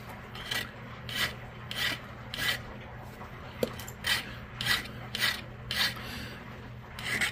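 A tiny flint arrow point is sharpened by knapping, with about a dozen quiet, evenly spaced rasping strokes of stone abrading stone, close and alone with no talk.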